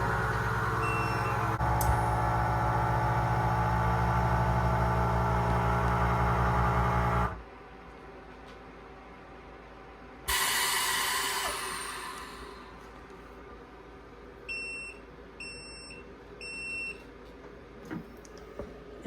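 WEVAC CV12 chamber vacuum sealer sealing a jar: a loud steady pump hum that cuts off abruptly, a brief hiss of air, then a few short electronic beeps at the end.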